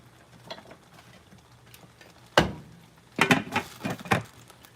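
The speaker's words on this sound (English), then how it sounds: "once you take that lid off and start to stir" A spoon stirring cooked macaroni and cheese in a pot: a few soft scrapes and clacks, then a cluster of wet, sticky stirring noises near the end, close and fairly quiet.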